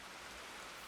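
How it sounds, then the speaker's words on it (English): Rain falls in the video game Minecraft, a soft, steady hiss of light rainfall that continues evenly throughout at low volume with no talk. "Sorry about the rain, by the way."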